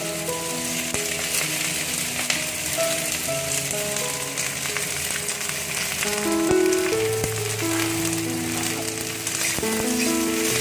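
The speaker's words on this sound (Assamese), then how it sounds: "পিঁয়াজখিনি ভালদৰে আপোনাৰ এটা ব্ৰাউন কালাৰ অহালৈকে অলপ সময় ভাজি লওক।" Chopped onions frying with bay leaves and cinnamon in a pan for omelette curry, a continuous bright sizzle close by, with faint musical tones drifting underneath.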